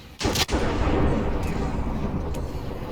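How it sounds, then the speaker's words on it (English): A summoned character in Minecraft firing at morphs: a sharp burst of shots at the start, then a loud dense roar of continuous gunfire-like rumble, close and sustained, with a voice faintly under it. "Yeah, she's shooting at the morphs."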